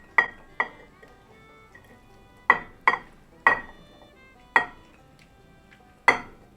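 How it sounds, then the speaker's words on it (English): Pea salad being spooned into a serving dish, heard as about nine distinct clinks of the spoon against the dish. The clinks come up close and crisp, in an irregular rhythm, with quiet gaps between them. "Now you'll want to add your pea salad to your serving dish."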